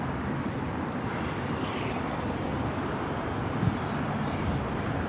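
An El Al Boeing 787-9 Dreamliner bound for Tel Aviv takes off from Los Angeles airport, its jet engines a steady, broad roar held at a distance throughout with no talking.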